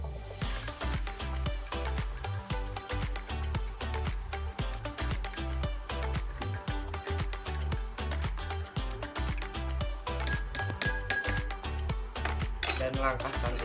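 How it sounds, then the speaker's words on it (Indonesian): Spoon stirring a tablespoon of salt into water in a glass for a chemistry experiment, rapid rhythmic clinking of metal against glass continuing throughout, close and fairly loud. "Lalu jangan lupa untuk diaduk."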